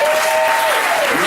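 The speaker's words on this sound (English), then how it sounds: "Let's give a nice round of applause." An audience at a Detroit music talk bursts into a short, dense round of clapping, loud and close, lasting just over a second.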